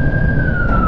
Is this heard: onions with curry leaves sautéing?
no